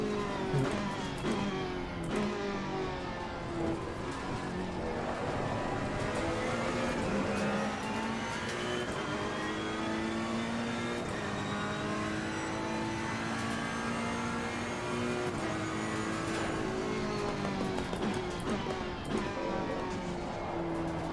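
A Ferrari 488 GT3 EVO racing at Imola in Assetto Corsa Competizione, its engine droning loud and continuous as revs climb and fall through gear changes, without any pause.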